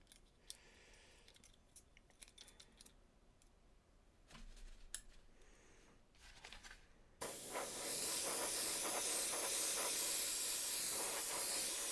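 Quiet handling clicks and rustles lead into a sudden, loud, steady aerosol hiss that continues to the end as cleaner is sprayed onto a car panel.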